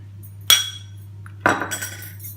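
A spoon stirs a mixture of bicarb soda and hot water in a bowl for ANZAC biscuits, sounding as two sharp, ringing clinks about a second apart over a low steady hum.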